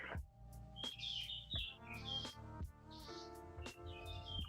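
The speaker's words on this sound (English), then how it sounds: "mother bird just came and fed the little ones, so they're all screaming" Baby birds in a nest chirp right after the mother bird feeds them, making a steady stream of high, shrill cheeps over a faint background hum, some distance from the listener.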